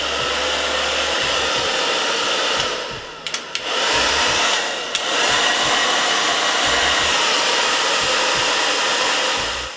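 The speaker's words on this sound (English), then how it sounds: "you want to blow dry it until you feel that it's not wet anymore" A hair dryer blowing steadily on a lace frontal wig, a loud continuous whoosh that briefly drops out and resumes, heard alone without speech.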